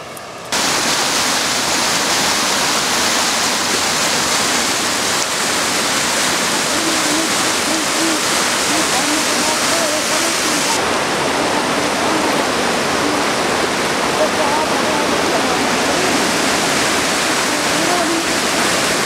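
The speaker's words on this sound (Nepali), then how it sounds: "यहाँ मलुङ खोला बगिरहेको छ" The Malung stream rushes close by in a loud, unbroken wash of flowing water that holds steady for nearly twenty seconds.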